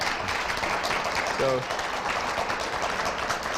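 Lecture-hall audience applauding a visiting German lecturer on building biology, a steady wash of clapping that carries on beneath a voice speaking over it.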